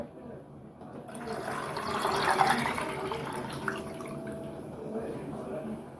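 Milk pours steadily into a pot holding a little pasta water and cream, a soft rushing splash that builds then settles, with faint background noise.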